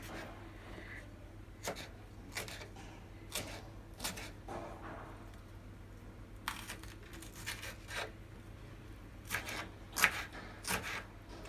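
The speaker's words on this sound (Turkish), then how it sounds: "Şimdi malzemelerimizi doğramaya başlıyoruz kebabımızın." Sharp knife taps on a cutting board as vegetables are chopped for a tray kebab, irregular and close, with short bursts of rapid chops separated by pauses over a steady low background hum.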